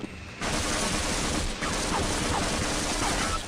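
Automated turrets in the game Half-Life: Blue Shift firing a loud, continuous stream of rapid gunfire that starts suddenly and holds dense and unbroken, with a brief dip partway through.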